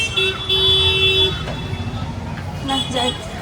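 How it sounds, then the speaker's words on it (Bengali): Vehicle horns honk on a crowded, busy street at rush hour: one long steady blast, then shorter toots over a continuous roar of traffic and background bustle. "কত হর্ন দেয় লোকে এই সময়টা এত ভিড় থাকে"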